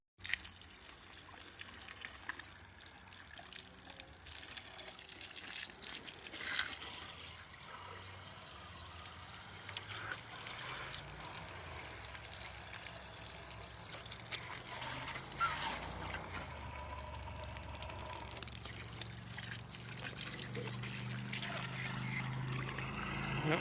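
Water pours and splashes over an LS V8 engine swapped into an all-wheel-drive Subaru WRX, a steady gushing wash with fluctuating surges, fairly faint and continuous throughout.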